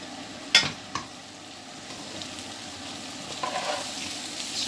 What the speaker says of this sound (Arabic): شوحناه تشويحه حلوه كده عشان يبقى مفلفل عندنا